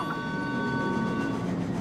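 In Super Mario Odyssey, a continuous train-like rumble plays, loud and steady, with a sustained whistle-like tone running over it; no one speaks.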